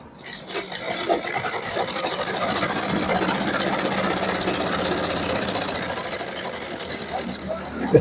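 A sewing machine stitches a shirt seam in a steady, continuous whirring run at close range, starting and stopping at the ends.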